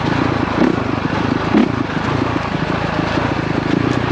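A Honda CRF450RX dirt bike engine pulls in second gear on a trail, a loud, dense, continuous buzzing drone heard up close, with brief rises in intensity.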